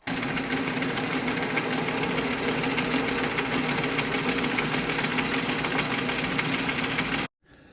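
A backing nut for an old engine is machined with a steady, loud mechanical whir and rattle that runs continuously for about seven seconds, then cuts off abruptly.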